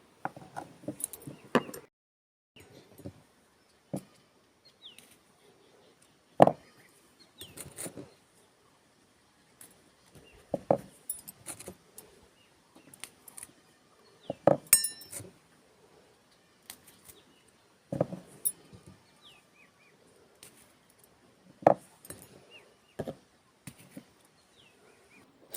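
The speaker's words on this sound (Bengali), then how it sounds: "প্রথমে ছুরি দিয়ে করম চাগুলো কেটে নেব" A knife slices karamcha (carandas plum) fruits one by one, making faint, scattered crisp cutting clicks with quiet gaps between them. Each cut sounds close but soft, and no one talks.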